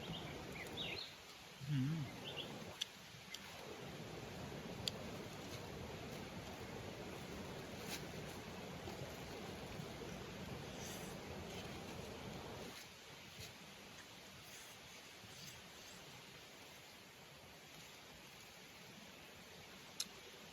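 Flowing water outdoors beside a roadside meal in rural Thailand, a continuous quiet rushing wash at moderate distance that runs throughout, briefly overlaid by a few sharp clicks and soft movement early on.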